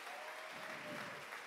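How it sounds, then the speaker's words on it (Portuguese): Theatre audience at a hypnosis show applauding the band: a steady, dense wash of many hands clapping, evenly loud for the whole moment with no talk over it. "Uma salva de palmas à nossa banda."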